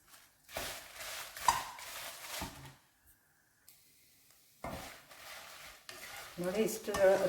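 Spice ingredients for a dry chili masala are roasted and stirred in a pan, with scraping strokes and a light sizzle. The stirring comes in bursts separated by a quiet pause.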